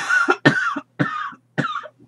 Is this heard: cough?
yes